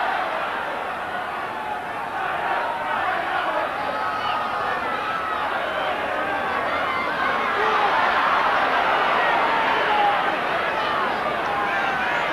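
A large rugby league crowd of nearly 30,000 at a Hull KR versus Hull John Player Special Trophy match, a steady broad roar and murmur of massed voices filling the stadium throughout, with no distinct single voices.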